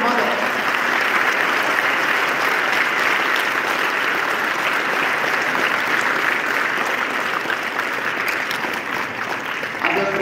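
Sustained audience applause fills a large hall during a talk at a nation-building event, with steady, dense clapping that stays loud and even throughout.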